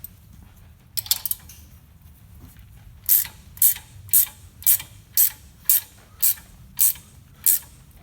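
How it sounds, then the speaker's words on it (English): A ratchet spanner clicks on a car's rear axle while wheel studs are pulled back through. There is a brief burst of clicks, then a steady run of about nine evenly spaced ratcheting strokes, close and fairly loud. "if the ratchet spanner fits in there, and it might be a bit quicker"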